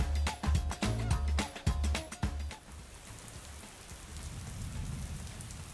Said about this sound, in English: Natural sounds like wind and rain can be used too.